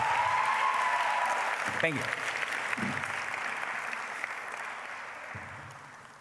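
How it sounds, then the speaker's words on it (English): Audience at a university public policy school commencement ceremony claps in sustained applause, loud at first and slowly fading, as a voice briefly thanks them. "let's get a round of applause for them"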